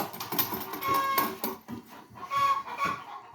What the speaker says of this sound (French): faut que je vire une poule